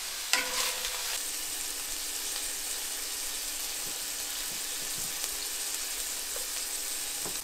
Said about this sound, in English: We're just gonna lightly cook these. They're getting there. I'm gonna stir them up